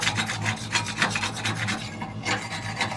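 A metal tool scraping carbon buildup inside a Harmon pellet stove, producing rapid, gritty back-and-forth rasping strokes up close, continuous for a few seconds with a brief pause.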